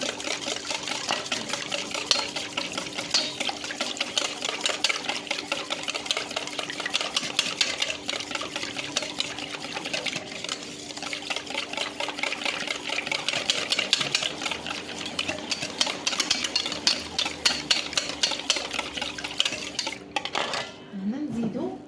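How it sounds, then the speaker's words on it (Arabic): Pancake batter liquids with vanilla extract being stirred in a bowl, giving a steady, close scraping and clinking of utensil against dish that runs continuously, with no voices. "نحركوا السوائل تاعنا هذو مع بعضهم"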